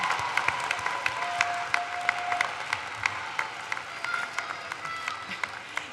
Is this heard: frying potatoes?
no